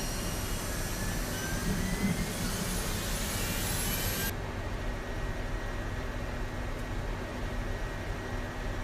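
An auxiliary power unit on a GLF650 business jet in a flight simulator whines and roars steadily, a loud constant turbine hiss with a high tone that cuts off partway, leaving a lower, duller rumble.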